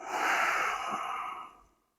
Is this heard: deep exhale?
yes